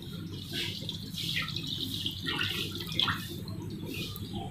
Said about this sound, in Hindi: ये जो दूध है इसमें दूध डालेंगे।